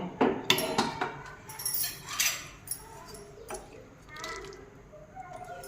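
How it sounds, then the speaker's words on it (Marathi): Metallic clinks and clatters of a cooled pressure cooker lid being twisted and lifted off after cooking emmer wheat kheer, with a few scattered knocks and no talking. "आता आपण झाकण काढून बघूया"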